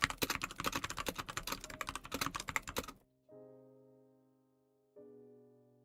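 Rapid typing on a keyboard, dense and steady clicking for about three seconds, then stopping; two soft sustained tonal chimes follow in the quiet.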